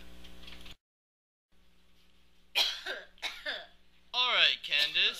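A young girl coughs repeatedly in harsh, wet bursts after a short pause, with several fits close to the mic, the cough lingering for weeks in a horror tale.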